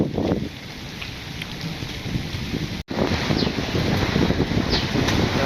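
Rain pours during a storm with strong wind, a constant heavy hiss mixed with low rumbling gusts buffeting the microphone, briefly cutting out for an instant midway.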